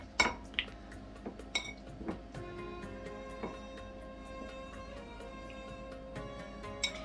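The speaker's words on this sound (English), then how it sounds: "I am going to put it in this pan." Soft boiled, peeled zucchini pieces go into a pan, heard as a few light clinks and knocks of cookware and utensils over a quiet kitchen background, with no talking.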